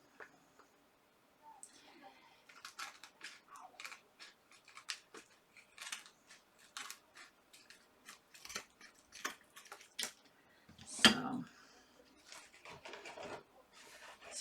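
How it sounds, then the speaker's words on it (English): Scissors snipping craft material for a 3D art piece, a quick run of close, crisp clicking cuts in uneven bursts, with a brief louder rustle partway through in a quiet room. "I have to cut down from this side now"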